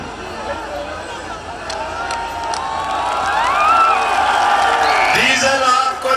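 Large crowd at a political rally at Liaquat, shouting and cheering in a dense, swelling roar that grows louder toward the end, with voices rising over the din.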